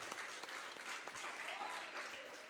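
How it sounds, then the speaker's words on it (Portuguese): A church congregation breaks into steady, full applause during a sermon, the clapping dense and continuous throughout with no break. "Você pode aplaudir ao Senhor?"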